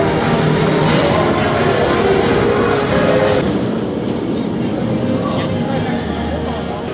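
A Hyperia roller coaster at Thorpe Park, juddering on new wheels, rumbles and rattles loudly along the track. The roar drops abruptly partway through, and riders can be heard talking over it.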